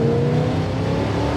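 A 1968 Dodge Dart with a built 340 engine and a shift kit drives along, its engine a loud, steady close-up drone with a faint rising whir and no voices.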